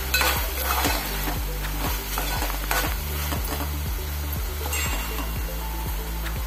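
Dried karandi prawns cook with raw mango, coriander and Agri masala in oil, a constant sizzle under rhythmic spatula scrapes against the pan, roughly two per second, close and clear with no talking.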